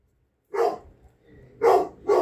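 A dog barks three times in a quiet setting, one bark, a pause, then two more in quick succession, moderately close.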